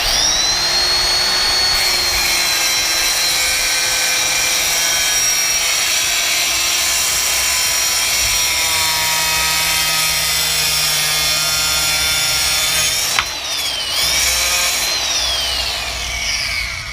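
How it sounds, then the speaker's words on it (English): A tile saw cuts through marble with a loud, continuous high-pitched whine and motor drone, steady and close throughout, with a brief pitch dip and recovery near the end as the blade loads and frees. "All right, let's try cutting some marble."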